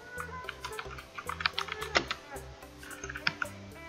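Keys clack in quick irregular bursts on a computer keyboard while a Google search is typed, close and fairly quiet, with a voice speaking over part of it.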